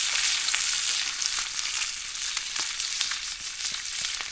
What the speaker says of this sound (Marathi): मासे टाकले तेलामध्ये फ्राय करायला.